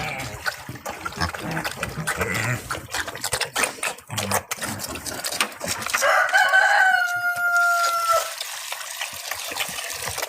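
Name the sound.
chickens and roosters crowing and clucking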